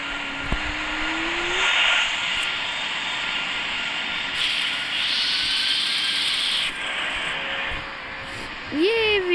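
An airplane engine in a video game drones steadily through a landing, a continuous hissing roar with shifting pitch, while a person talks over it.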